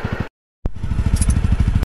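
A motorcycle engine chugs in quick, regular pulses close by, broken by a sudden half-second of silence before the same rapid beat resumes and then cuts off sharply.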